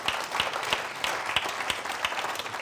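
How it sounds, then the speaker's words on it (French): Audience applause at an innovation awards ceremony, a full continuous crowd clapping with a few sharper rhythmic claps standing out at regular intervals, steady and moderately loud. "On peut encore applaudir hein"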